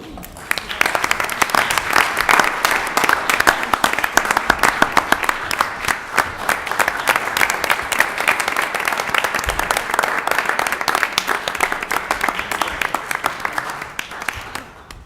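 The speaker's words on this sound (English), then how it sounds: "Another round of applause, please." An audience at a city council meeting in Elmhurst gives a long, dense round of applause, steady and fairly loud throughout, with a few voices mixed in.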